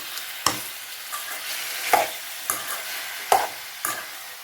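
Chicken sautéing in hot oil for a chicken gravy, stirred with a spoon that scrapes the pan in a few sharp strokes over a steady close sizzle.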